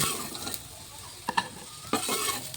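Potatoes fry in oil in a dish with capsicum and mustard paste, a soft steady sizzle with a few sharp utensil scrapes and clinks near the end, close and without talk.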